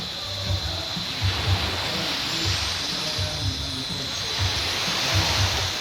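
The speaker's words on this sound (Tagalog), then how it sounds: "Maminaw sa tingog sa balod." Sea waves washing onto a shore in a steady, continuous rush of surf, fairly close and even in level, with a faint low rumble underneath and no clear talk.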